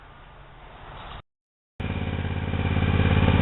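A Hustler Raptor Limited 52-inch zero turn mower with a Kawasaki engine runs steadily up close, its engine note cutting out briefly before returning louder and building toward the end.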